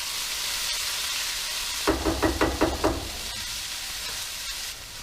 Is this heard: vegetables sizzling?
yes